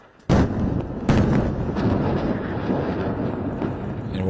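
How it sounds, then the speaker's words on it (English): Powerful bomb blasts in Beirut, Lebanon during an overnight strike: two sharp, loud explosions at the start, followed by a heavy sustained rumble, with no voices. "we're watching live imagery of bombs dropping right in the heart of Beirut"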